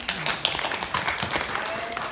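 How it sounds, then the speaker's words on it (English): A class of students applauds itself during a language-teaching presentation, with a burst of sharp, close hand claps and overlapping patter that keeps a steady level for a couple of seconds. "applaudissez-vous"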